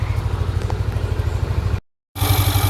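A Yamaha Aerox 155 scooter engine idles close by with a fast, even chugging and a rattling clutch, cutting out briefly to silence before the same clattery running resumes.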